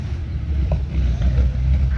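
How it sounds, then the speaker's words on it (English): A34 Comet tank with a Meteor engine, a derated Spitfire Merlin, running as it moves around: a steady deep low rumble, moderately loud and continuous, with faint wind noise. "Those of you can hear that lovely engine note going around."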